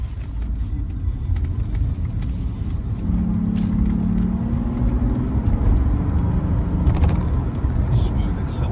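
A 2000 Mercedes-Benz SL600 driving, a heavy low engine and road rumble holding steady with a brief rising tone in the middle, heard from inside the car beneath someone talking.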